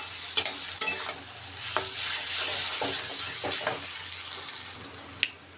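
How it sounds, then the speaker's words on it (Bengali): Ridge gourd stirred and fried in a pan, a steady hiss of frying with repeated scraping and clattering strokes of a spatula against the pan, close and moderately loud, with no voices. "এখন এইভাবে নাড়তে হবে, নেড়ে নেড়ে"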